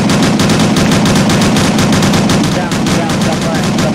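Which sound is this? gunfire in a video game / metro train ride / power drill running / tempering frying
gunfire in a video game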